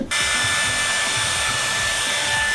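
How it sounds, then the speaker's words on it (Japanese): A hair dryer runs steadily while drying hair, a loud continuous blowing whir with a constant motor tone from start to finish after a brief start-up. "髪乾かします。"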